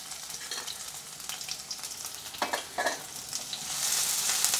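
Finely chopped onions sizzle in hot oil while a spoon stirs and scrapes the pan, giving a steady crackling hiss with brief clatters, close and moderately loud.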